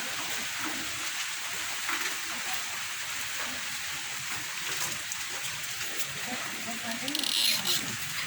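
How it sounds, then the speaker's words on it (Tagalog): Steady rain falling outside at night in Surigao, a continuous close hiss of drops on surfaces with someone talking softly underneath. "it's raining"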